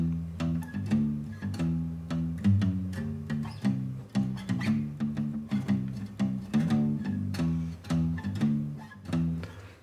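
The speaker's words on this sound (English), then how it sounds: "So you can hear it's a lot more pick noise and string noise" Acoustic bass recorded with a small diaphragm microphone plays a rhythmic, plucked line with clear pick and string noise on each note, close and alone.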